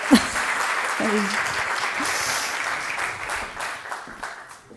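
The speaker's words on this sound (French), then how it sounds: "Je vous demande de l'applaudir très fort." An audience at a business club event applauds a sales manager, steady sustained clapping of moderate loudness with a few voices briefly audible near the start before it gradually thins toward the end.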